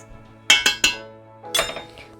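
Baking powder is mixed into flour in a bowl for British scones. Three quick, bright clinks of a utensil against the bowl come close together, then a softer pair follows after a pause.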